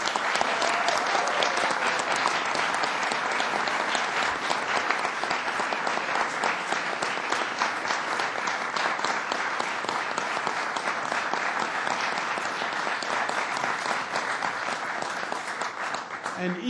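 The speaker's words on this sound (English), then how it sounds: "let's give him a round of applause." Dense, sustained audience applause for a senator at a public event, a steady wash of many hands clapping at full strength throughout, tapering only slightly at the very end.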